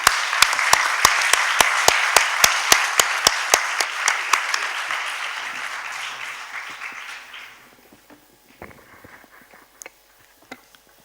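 Audience applause at a public talk on revitalizing the small villages of Val Lapisina, steady dense clapping with a few sharp louder claps on top, fading out after about seven seconds into near quiet.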